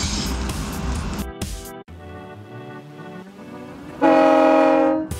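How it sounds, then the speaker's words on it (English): A GE diesel locomotive rumbles and hums, its engine tone slowly rising, before a loud, sustained horn blast sounds near the end; the sound is close and fairly loud. "I'm driving a train."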